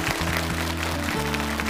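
Audience applause in a television studio, a dense, even wash of clapping that fills the whole short stretch, with a low musical tone sustained underneath.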